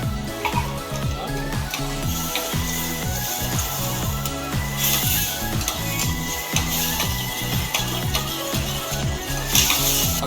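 Blended spice paste frying in hot oil in a pan, stirred continuously: a steady, loud sizzle with rhythmic scraping of the spoon against the pan, with no voices.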